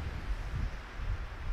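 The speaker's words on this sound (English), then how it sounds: "It is still incredibly windy today" Strong wind gusting at a lakeside campsite on a wilderness canoe trip, a low rumbling buffet of air against the microphone that swells and eases without pause.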